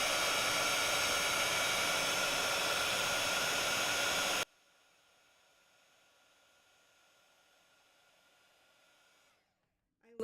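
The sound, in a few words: heat embossing tool blowing hot air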